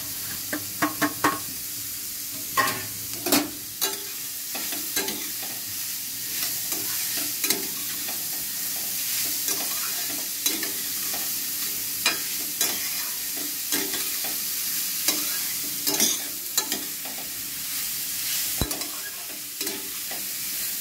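Chopped raw papaya being stirred and fried in a pan for a papaya laddoo, with a steady soft sizzle under repeated scraping stirs and spoon knocks against the pan, close and continuous with no talk.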